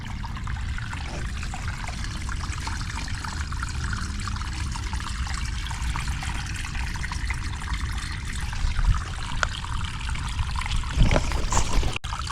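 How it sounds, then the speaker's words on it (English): Water runs steadily through a driveway drain catch basin out toward wetlands, a continuous close trickle and gurgle that swells slightly near the end. "this catch basin is working fine, carrying the water out to the wetlands"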